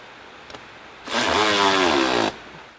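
Power tool tightening fasteners on a leather seat cover, a single loud, close whirring run of just over a second with a rising then steady pitch, following a faint click.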